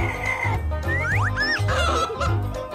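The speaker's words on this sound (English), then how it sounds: "And these are 2 chickens." Two cartoon farm chickens clucking and squawking in quick, bright, pitch-sliding calls over a constant low musical backing, close and fairly loud throughout.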